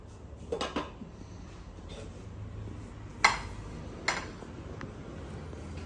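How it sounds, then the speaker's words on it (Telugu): A metal lid goes onto a cooking pot of sorghum, with a few light clinks early on and then two sharper, close metallic knocks about a second apart over a quiet background. "మూత పెట్టేసేద్దాం"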